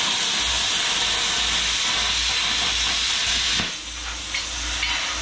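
A Bestarc BTC500DP plasma cutter slices through metal at 35 psi air pressure, a loud steady hiss with an airy rush, easing and sputtering briefly near the end as the cut finishes.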